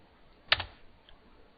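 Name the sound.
typing on a computer keyboard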